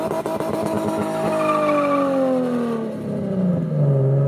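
A Lexus IS300 drift car's tires squeal in a long, loud skid that slides downward in pitch, with engine noise beneath and no voices.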